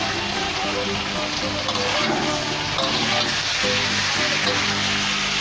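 Winter vegetables fry in oil with salt, turmeric and chillies for a vegetable khichuri, making a continuous crackling hiss that resembles rain, with faint low background tones underneath.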